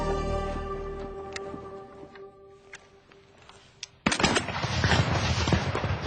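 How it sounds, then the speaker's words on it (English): Sharp gunshots crack out amid a sustained musical tone, then a dense, loud burst of gunfire and battle noise erupts and continues, marking the start of the Battle of Waterloo. "gunfire signals the beginning of the Battle of Waterloo"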